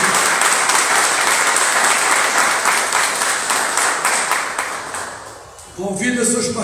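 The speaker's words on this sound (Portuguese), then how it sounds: "uma salva de palmas para Jesus, para essa igreja abençoada aqui" Loud, dense applause from a church congregation fills the room, holding steadily for about five seconds, then dropping away as a voice begins speaking over the last of it.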